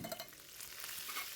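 Onion, garlic and chili fry and sizzle in hot ghee, a bright, continuous crackle with faint stirring, close and alone.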